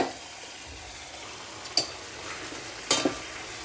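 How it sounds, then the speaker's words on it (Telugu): Sambar powder, turmeric and chili being fried in a pan, a soft, steady sizzle close by, with two sharp spoon scrapes or taps against the vessel. "సాంబార్ పొడి వేసుకొని వేపుదాం."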